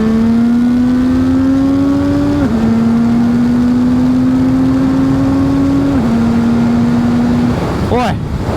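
A CF Moto 675 SR-R motorcycle pulls hard at full throttle, its engine note climbing steadily through two quick upshifts, loud and close over wind rush, then cutting off sharply near the end.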